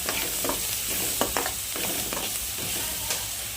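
Onion and green masala stir-fried in oil for a cluster bean dish, a constant bright sizzle with several scraping stirs of a spoon through the pan, close by.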